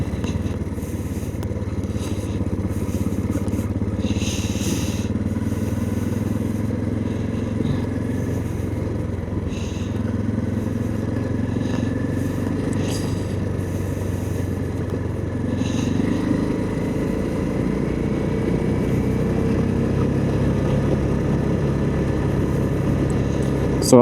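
A motorcycle rides off-road at moderate speed in the central North Island of New Zealand, its engine droning steadily under heavy wind rumble, with occasional clatter over rough ground.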